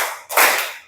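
Hand clapping during a counted clapping exercise, with a quick pair of claps, the second louder and fuller, fading out in a short room.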